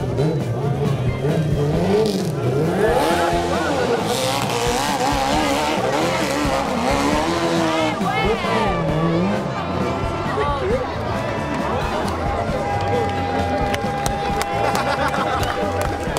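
Motorcycle engine revving hard at a hill climb championship event in Muhlbach, a loud, close, continuous whine that rises and falls in pitch as the rider climbs, with a commentator speaking over it.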